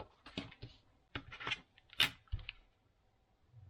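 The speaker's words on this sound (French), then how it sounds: "vous découpez d'un trait jusqu'au point de repère ici en dessous" A craft knife makes a few short, sharp cutting and scraping strokes through paper, separated by brief quiet pauses, close and fairly faint.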